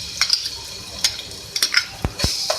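Ginger garlic paste fries in oil in a pan, with soft sizzling and a few sharp stirring clinks and scrapes against the pan, close and fairly quiet.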